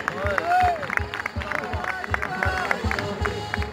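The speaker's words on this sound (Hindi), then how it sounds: "एक बार फिर बजा दीजिए तालियां फनकारों के लिए।" A circus audience applauds tightrope performers, with rhythmic clapping and crowd noise running steadily under a loud announcer's voice and music.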